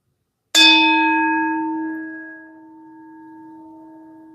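A single temple bell strikes once, loud and close, its bright metallic attack fading into a long humming resonance with steady overtones that linger to the end.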